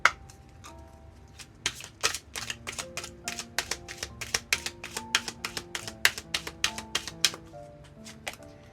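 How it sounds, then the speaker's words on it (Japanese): Tarot cards being shuffled and drawn, a quick run of crisp snapping taps and flicks from close by, dense and irregular through the middle, with no talking. "じゃあカードからあなたにメッセージ最後に引いていきましょう。"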